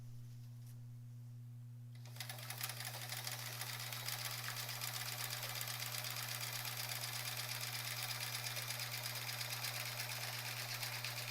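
After about two seconds of quiet hum, a sewing machine doing free-motion quilting while skipping stitches starts up and runs continuously, with rapid, even needle chatter up close.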